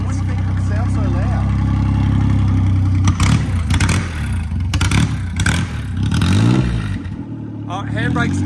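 A modified midget race car out on a golf course revs its engine loudly and close, with rising and falling bursts and rough clatter, while voices talk over it.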